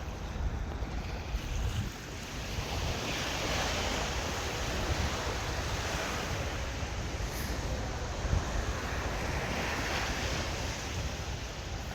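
High-tide waves wash continuously against the shore on a full-moon night, a dense, steady roar of surf with wind noise buffeting the microphone.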